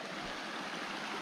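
A stream beside the Appalachian Trail flows in a steady, even rush of water, close and continuous with no voices.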